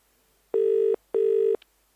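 Two long electronic tones from a telephone being dialled for a call, each steady, loud and close, separated by a short gap and followed by a faint click, with no voices.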